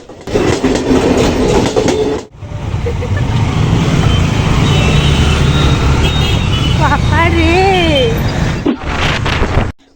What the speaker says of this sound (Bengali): অপেক্ষার সমাপ্তি ঘটে ট্রেনটা অবশেষে ঢুকলো